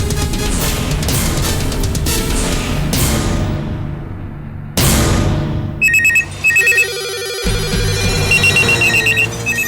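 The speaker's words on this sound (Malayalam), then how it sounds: "ഫോൺ വിളിച്ചിട്ട് ഫോൺ എടുക്കുന്നില്ല." A telephone rings unanswered, its electronic ringtone repeating in loud, regular bursts while background music plays beneath it, with no talking.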